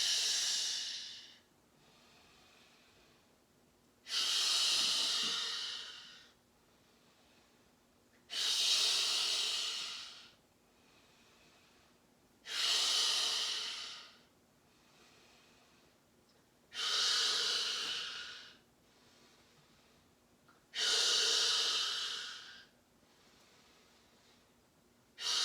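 Slow, deep breaths during yoga practice, each long airy hiss lasting about two seconds and returning every four seconds or so, six in a row, close and steady with quiet gaps between.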